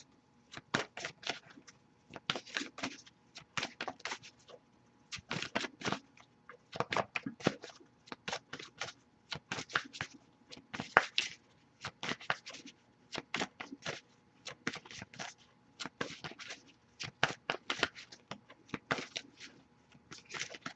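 Tarot cards shuffled repeatedly by hand, bursts of crisp close riffling and flicking in irregular clusters that go on and on, with quiet pauses between and no speech.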